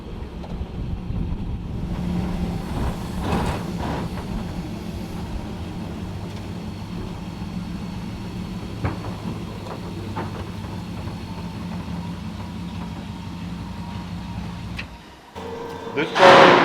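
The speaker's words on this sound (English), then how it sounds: "This car, it's a 1939 Chevy." A 1939 Chevrolet Master Deluxe with a 327 engine, 700R transmission and air suspension drives along, a steady low engine and road drone heard from inside, ending with an abrupt change in the noise.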